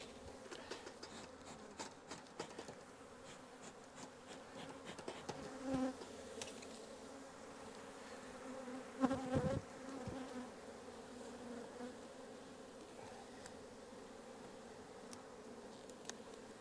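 Honey bees buzz steadily as a beehive is split and frames of brood are handled, a close, even drone with a few louder swells from bees passing near.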